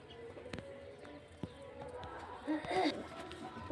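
Imported-breed pigeons in a loft kept for sale: faint, soft cooing rises near the end, with light knocks and rustles and a person talking over it.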